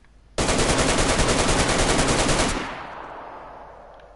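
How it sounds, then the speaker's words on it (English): Automatic gunfire from a gun firing tracer rounds in DayZ on PS4: one loud, close, continuous rapid burst of about two seconds that cuts off and leaves a fading echoing tail. "Some of the other guns, they really sound good as well."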